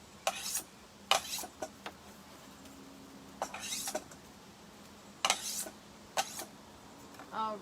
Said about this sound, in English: And you can play yourself a little chopping symphony.